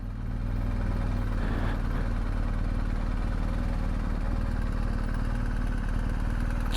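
Motorbike engine idling steadily nearby with a low, constant rumble and clatter at a motorbike café in Birmingham, England.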